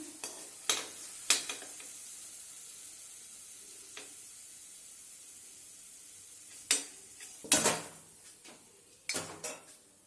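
Spinach kofta frying in oil in a wok, a steady hiss of sizzling oil broken by sharp metallic clinks and scrapes of a utensil against the pan, several clustered near the end.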